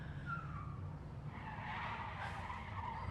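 A car tire skids in a film scene, a short squealing screech rising over a low engine rumble, moderately loud, with no talking.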